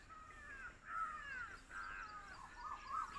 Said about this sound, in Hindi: देखिए कितने सब चिड़ियाँ,